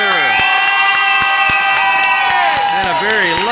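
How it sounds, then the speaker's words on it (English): A loud, big home crowd cheering and shouting at an Owensboro Rampage game, dense and sustained throughout, with whistle-like tones ringing over the roar. "And a very loud, big Owensboro crowd."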